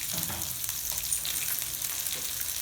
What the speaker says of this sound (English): And again fry them for a few minutes.